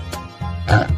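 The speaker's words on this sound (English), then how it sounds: "pig," A cartoon pig gives a short oinking call, two quick grunty bursts within about a second, loud and close, in an animated farm-animal transformation sequence.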